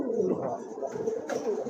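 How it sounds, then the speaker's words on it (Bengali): Pigeons coo on a pigeon farm, a soft, rolling, throaty cooing that repeats close by through the whole moment with no voices over it. "আরেক জোড়া কবুতর"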